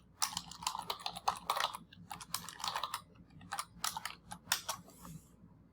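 Bursts of clicky typing on a computer keyboard while entering a comment value in Revit, rapid key taps in uneven clusters separated by brief pauses, close and fairly quiet.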